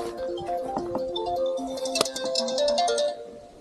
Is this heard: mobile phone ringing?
yes